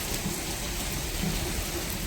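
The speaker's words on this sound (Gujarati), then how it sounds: "જોરદાર વરસાદ ચાલી રહ્યો છે અમારા ગામમાં" Heavy rain pours steadily over a village on a morning, a dense, continuous wash of drops close by with no breaks and no voices.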